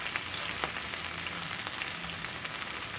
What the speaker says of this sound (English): this is truly southern fried okra